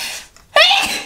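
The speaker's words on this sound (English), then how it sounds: "I'm going to sneeze." A single human sneeze bursts out loudly and close, preceded by a short breathy intake and a brief pause.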